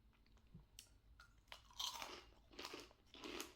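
Crisp crunching and chewing of a squid-flavoured Japanese rice cracker (senbei), close and loud, with several bursts of bites and munching in a row and no talking.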